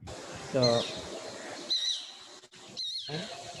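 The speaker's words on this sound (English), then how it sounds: "That is actually the call of shikra calling, right?" Shikra calling: a few sharp, high chirping notes standing out against faint background noise, fairly close.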